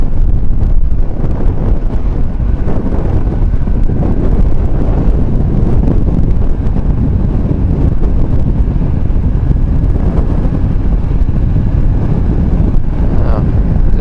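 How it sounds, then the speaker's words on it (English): Steady, loud wind roar buffets a microphone inside a motorcycle helmet on an open rural highway, a continuous broadband rush with no letup. "it's going to be picking up this background wind that I can hear through the helmet right now"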